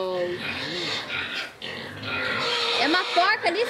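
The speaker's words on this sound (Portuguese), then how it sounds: "É uma porca ali, Sérgio, ou é um porco?" Pigs on a small rural farm grunt and squeal in short, rising bursts near the listener, with people talking over the animals throughout.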